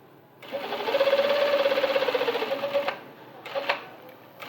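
A sewing machine stitches a shirt collar in one steady rapid run of needle clatter lasting about two and a half seconds, followed by a few short clicks and taps of handling.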